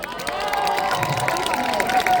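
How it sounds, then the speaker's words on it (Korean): A festival crowd at Keimyung University applauds and cheers, a dense, steady wash of clapping and shouting voices that fills the whole moment. "여러분들 스스로에게 큰 박수 한 번씩 부탁드리겠습니다"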